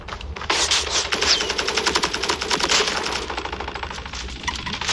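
Rapid automatic gunfire in the video game Call of Duty, a long, steady stream of sharp shots rattling off in quick succession, loud and close with no one talking.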